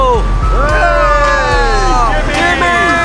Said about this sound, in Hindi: हम एक आइसक्रीम ट्रक लाए हैं